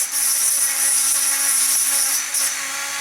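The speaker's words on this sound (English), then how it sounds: "once you've got the holes you can just use the drill to melt the plastic" A drill whines at high speed, cutting and melting its way through plastic in one sustained, loud close-up burst that dips briefly before resuming.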